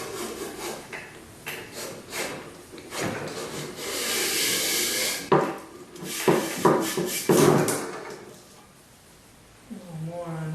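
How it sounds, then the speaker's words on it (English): A brush scrubbing a dark, rusty gun bore coated with rust remover, rasping strokes in uneven bursts, close and moderately loud, ending with a short squeak. "we're going to try to run a brush down in there with the rust remover on it to kind of loosen up anything"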